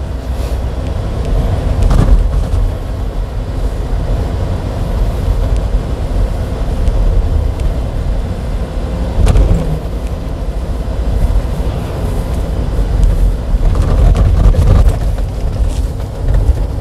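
A manual car with the accelerator held down in fourth gear during a driving lesson, its engine giving a steady, loud broadband drone that swells slightly near the start and end, with no talk over it.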